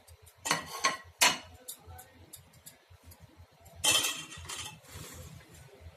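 A metal spoon mixes turmeric, salt and ajwain in a dish for a dal recipe, giving light repeated taps and scrapes with a few sharper clinks, close and fairly quiet.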